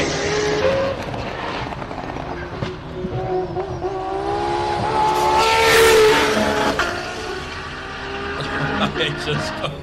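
A space-frame race car built in South Africa roars past at the Simola hill climb, its engine rising to a loud revving peak mid-clip then fading, with excited spectators talking over it.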